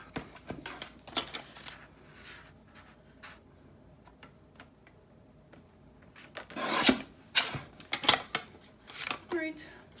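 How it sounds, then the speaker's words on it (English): Scissors or a blade cutting card paper down to size for a handmade coin envelope, giving quiet scraping and rasping strokes that come in short bursts, louder near the end, with faint room noise between. "All right, so we just need to cut another inch off."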